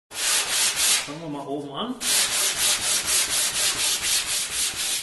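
Sandpaper is rubbed over the wooden surface of a Sela snare cajon in steady back-and-forth strokes, loud and close, pausing briefly while someone speaks.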